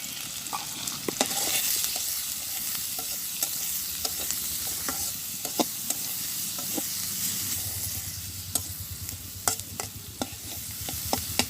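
Oil sizzling in a pan with salt and turmeric in a village kitchen: steady crackling fry with frequent spatula scrapes and taps, close and continuous throughout.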